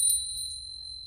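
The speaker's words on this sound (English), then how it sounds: "Tingsha bells." Tingsha bells, a pair of small Tibetan hand cymbals, give one clear bright strike that rings on as a steady sustained tone, fairly quiet and alone.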